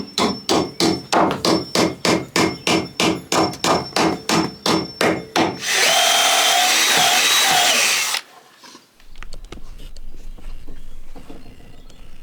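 A hammer drives nails into timber while repairing a collapsing abandoned cottage: a run of about fourteen sharp, evenly spaced blows, followed by a burst of loud noisy clattering and then quieter rustling, close by, with no voices.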